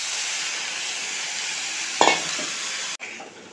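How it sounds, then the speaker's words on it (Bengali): Sabudana khichdi sizzles steadily in a pan, and then a single scraping stir of a spoon sounds about two seconds in, followed by an abrupt cut and a quieter, continued frying hiss. "ভালো করে নেড়ে দেবো"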